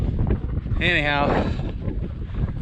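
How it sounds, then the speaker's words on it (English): Wind blows steadily outdoors, a low rumbling gust buffeting the microphone throughout while a person talks over it. "It's kind of windy out here."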